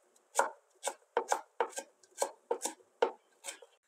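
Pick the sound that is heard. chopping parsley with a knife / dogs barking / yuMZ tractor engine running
chopping parsley with a knife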